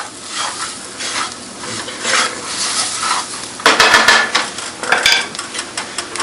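Polenta toasting in an oily pan with vegetables while being stirred, a continuous close sizzle broken by scraping and clattering of a spoon against the pan, louder bursts partway through, with no talk.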